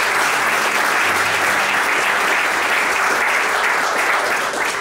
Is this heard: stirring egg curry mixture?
no